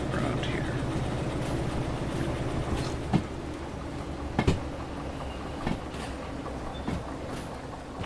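A train runs in the Derail Valley video game, its low rumble rolling steadily with occasional sharp clanks and knocks, fairly faint and without talk.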